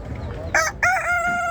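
A rooster crows loudly nearby at a poultry and bird market in Ganja, Azerbaijan, a harsh drawn-out call starting abruptly after a brief squawk, over faint background noise.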